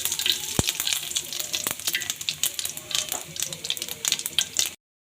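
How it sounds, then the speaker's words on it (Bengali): Radhuni seeds, cumin and bay leaves sizzle in hot oil for a mung dal with cauliflower, a dense crackling hiss with sharp pops and a few clacks, close and steady, no talk. "এবার আমি দিয়ে দেবো এর মধ্যে রাঁধুনি, আর দিয়ে দিলাম জিরা আর তেজপাতা।"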